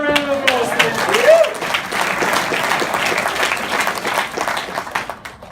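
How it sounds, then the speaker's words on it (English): Round of applause from an audience at a business talk, clapping under cheers and voices that trail off as the applause fades. "give him a round of applause."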